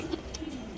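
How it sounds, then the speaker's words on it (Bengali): White Bombay pigeon cooing softly in a brief, low murmur, fairly close and steady, with faint background noise around it. "কবুতর ডাকটা খুবই সুন্দর আল্লাহর রহমতে"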